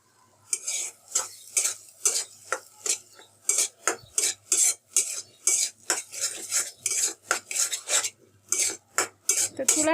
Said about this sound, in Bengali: তো এগুলোকে নেড়ে চেড়ে পেঁয়াজ এবং মশলাগুলোর সাথে ভালোভাবে মিশিয়ে নেব।